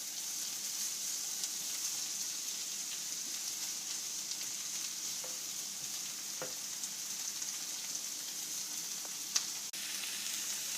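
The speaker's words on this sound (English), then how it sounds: "I'm adding the onions that I've just sauteed on top of the venison" Browned venison and sauteed onions sizzle steadily in a pan, a soft, continuous hiss with occasional faint ticks and one small knock near the end.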